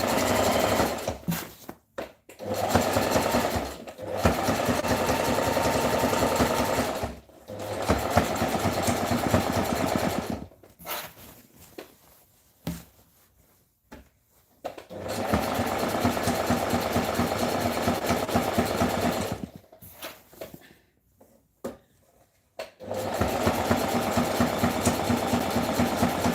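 Sewing machine zigzag stitching fabric for a gathered skirt, running in loud steady bursts of several seconds each, separated by short pauses.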